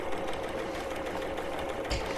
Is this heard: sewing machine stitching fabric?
yes